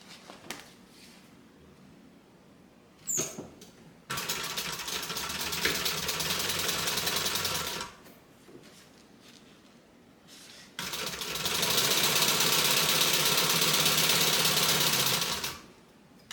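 Home sewing machine stitching a bag seam from the band side over Decovil interfacing, two sustained runs of fast, even whirring stitches separated by quiet pauses and a brief click.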